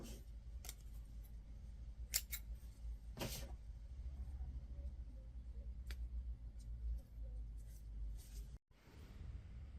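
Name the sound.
scissors cutting yarn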